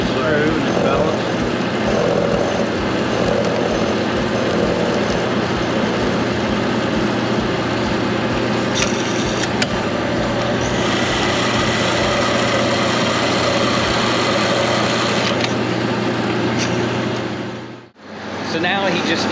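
A tire truing machine shaves a new hot rod tire, a loud, continuous mechanical drone and hum that runs steadily for most of the stretch, then cuts off briefly near the end. Voices talk over it.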